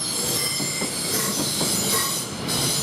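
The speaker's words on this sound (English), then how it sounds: "we've got 700/550 going towards London Liverpool Street" A Class 700 train moves through Shenfield station toward London Liverpool Street, its wheels squealing loudly and continuously with a rumbling rail roar close by.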